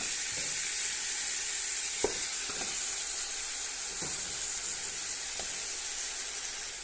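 Meat sizzles steadily as it goes into a pan of fried onion and ginger-garlic paste, with a constant close frying hiss and a few soft stirring clunks.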